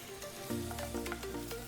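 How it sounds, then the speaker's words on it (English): Two eggs frying in oil in a pan for Thai pineapple fried rice, giving a steady close sizzle with light crackling throughout and no voices. "Then crack in 2 eggs."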